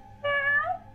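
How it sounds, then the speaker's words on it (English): A single cat meows once, close and clear, a drawn-out tonal cry of under a second with nothing else heard. "There's been a cat trapped in the wall since we moved in."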